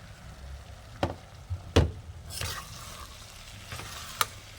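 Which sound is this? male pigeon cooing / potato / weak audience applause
potato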